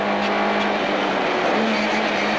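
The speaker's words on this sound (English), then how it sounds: "the newly built car is sounding a bit off down in power" Newly built rally car on a stage at the Carlow MK11 Challenge 2004, running at speed while down on power, its engine a steady, continuous drone with a faint tonal whine, loud and without talk.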